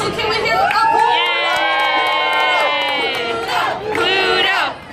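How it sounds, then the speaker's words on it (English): A crowd at Walt Disney World cheers for Pluto before a basketball shooting game, with loud sustained chanting and shouting in many voices, including children, rising twice across the span. "So before Pluto begins, we need to cheer him on."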